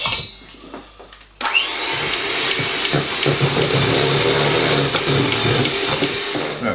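After a few quiet clinks, an electric mixer whirs into loud, steady motion, beating Christmas cake batter with a high motor whine and a slightly shifting pitch as the batter churns.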